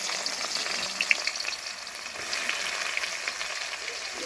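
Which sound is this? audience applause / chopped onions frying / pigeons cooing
chopped onions frying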